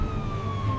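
Cartoon ambulance siren as the ambulance speeds away over rough terrain: a steady, wailing tone that sinks slightly in pitch, moderately loud and continuous, with no voices.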